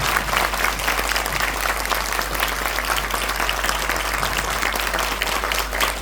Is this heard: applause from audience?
yes